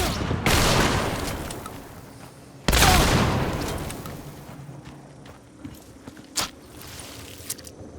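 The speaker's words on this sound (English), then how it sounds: "We can definitely hear those crouching footsteps on wood." Crouched footsteps creak and thud over wooden floorboards in the video game Hunt: Showdown, arriving as scattered soft steps between two loud, broad bursts and a few sharp clicks.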